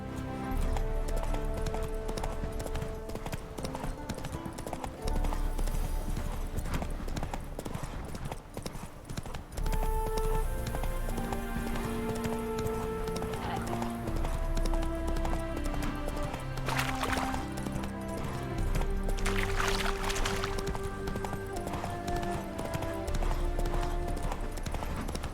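Roach the horse galloping in The Witcher 3, rapid rhythmic hoofbeats close and loud over a sustained orchestral music score.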